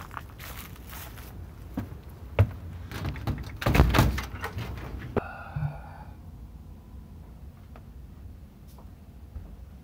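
A door is handled and pushed open amid rattling and footsteps, with a loud clunk near the middle followed by a sliding scrape, then quiet room tone.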